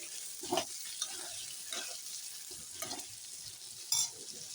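Potatoes frying with turmeric in a pan, a soft background sizzle broken by a few scraping strokes of a spatula, fairly quiet and close, no voices.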